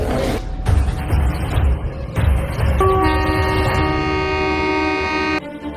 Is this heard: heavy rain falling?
no